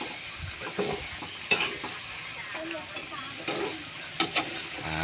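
Adobo is stirred in a hot pan, with a soft continuous sizzle broken by scattered scrapes and clinks of the utensil against the pan.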